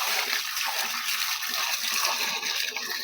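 Water poured into a jivamrut mix of cow dung, cow urine, soil, jaggery and flour, a steady close rush of pouring and splashing that runs continuously without talk.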